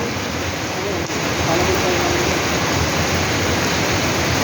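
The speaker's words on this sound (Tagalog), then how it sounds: "Ang lakas-lakas talaga ng ulan." Dense, steady downpour hisses without a break, a loud wall of rain noise filling everything and holding constant for several seconds.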